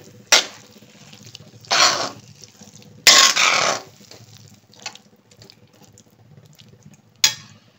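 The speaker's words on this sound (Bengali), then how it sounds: "নেড়ে দেই।" Mashed potato being stirred with half a spoon of ghee in a pan for tandoori potato bharta, giving a few short wet scraping and squelching bursts spaced across the moment, close and moderately loud, with no talking.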